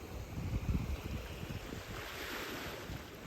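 Sea waves surging and washing in, with a steady broadband rush and a louder swell early on, moderately faint and heard alone under some wind.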